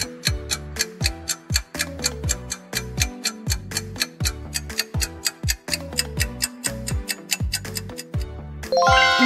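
Music from the Minecraft video game plays as a rhythmic run of bright, plucked bell-like notes, repeating steadily and up front with no talking.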